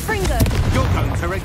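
A Bombarda spell blasts in the video game Hogwarts Legacy, a loud rumbling explosion with crackling bursts, close and heavy, mixed with a voice speaking over it.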